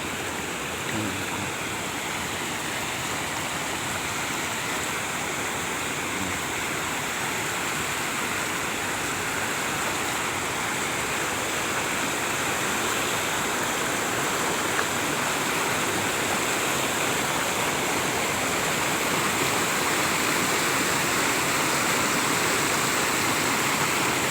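A small waterfall pours and splashes in a steady, dense rush of flowing water that stays close and constant throughout, with no other clear sounds on top.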